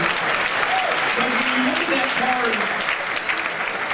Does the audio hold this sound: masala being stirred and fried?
no